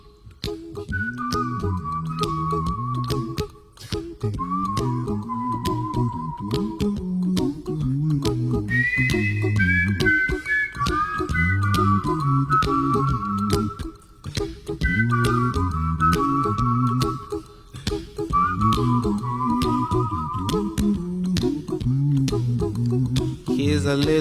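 A person whistling along to the melody of a song, bright repeated whistled phrases over the track's rhythmic vocal backing, loud and close throughout.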